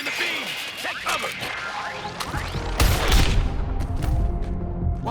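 Mr. Freeze fires his beam in the Suicide Squad: Kill the Justice League game, a loud sustained barrage of blasts, crashes and whooshing sweeps that swells midway and stays dense to the end, with voices speaking over it.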